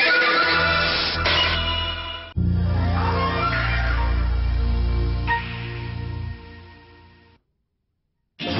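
A racehorse neighs loudly in repeated whinnying bursts, a shrill call followed by a long shuddering neigh, then the sound cuts off abruptly.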